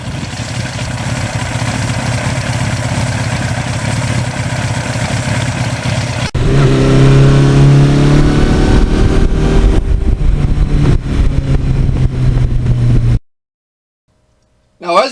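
A 1982 Suzuki GS1100E motorcycle engine rumbles steadily while riding, swelling louder with rising harmonics midway before cutting out into near silence at the end.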